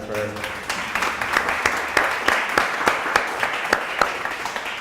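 Applause from a small audience at a startup networking talk, a steady run of claps lasting several seconds, fairly close and without speech over it.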